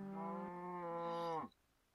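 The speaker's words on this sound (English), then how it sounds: "This is a cow farm. Now mind you, this is only 4 cows." Cow mooing on a small Minecraft cow farm, modded setup: one sustained, loud, harmonic moo lasting about a second and a half, then cut off to near silence.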